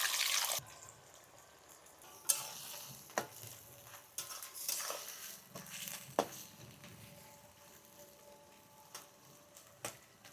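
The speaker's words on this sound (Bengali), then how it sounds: "তেল ভালো করে গরম করে নিয়ে পেঁয়াজ দিয়ে দিচ্ছি" Thinly sliced onions frying in hot oil for biryani, a continuous soft sizzle with occasional scraping stirs and clinks from a utensil, close and moderately quiet throughout.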